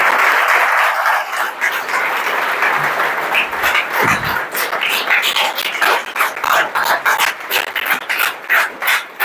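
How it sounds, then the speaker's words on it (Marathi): Loud, sustained applause from a crowd welcomes a newly selected Mumbai police recruit, the clapping rising and swelling in dense bursts before thinning into scattered claps. "जोरदार टाळ्या वाजून त्याचं स्वागत केलं"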